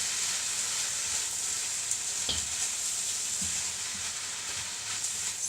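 Sweet and sour chicken with carrot noodles frying in a pan while being stirred: a steady, close sizzle and hiss with occasional scrapes and knocks of the spoon, no voices.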